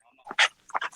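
An American Pit Bull Terrier, a female two to three years old, gives short whimpering yips close by, a few quick separate cries in about a second.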